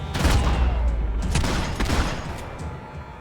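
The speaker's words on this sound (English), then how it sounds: "Gunfire over Hoboken." Bursts of gunfire in the video game Max Payne 3, a rapid fusillade of loud cracks and booms clustered over a few seconds, then tapering off.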